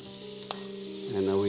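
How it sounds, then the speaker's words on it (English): Butter sizzles as it is added to ghee in a pan over low heat, a steady frying hiss that swells louder near the end. "We add the butter, and I will keep it kind of low"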